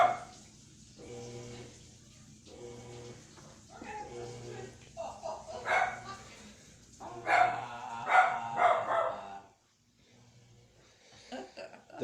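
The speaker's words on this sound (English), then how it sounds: "but he's barking like crazy." A dog barks repeatedly at a washing machine, in irregular bursts that grow louder and more frantic, over a low steady hum from the running appliance, with a brief quiet gap near the end.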